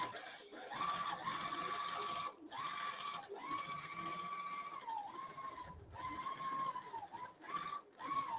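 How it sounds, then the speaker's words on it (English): An automated quilting machine stitches edge to edge on a Cutie frame, a steady close motor whine with a fast stitching buzz, pausing briefly a few times as it changes direction, with faint voices underneath. "Now it's going to start. See where it's starting right there? And it just starts on it."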